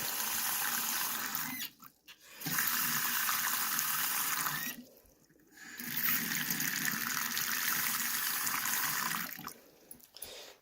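Water gushing from an old iron-pipe tap into a very old sink in a house, running steadily in three loud bursts separated by brief near-silent gaps as the flow stops and restarts.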